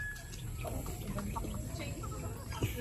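Native chickens clucking and fowl calling steadily over a low rumble of background noise, several birds murmuring close by.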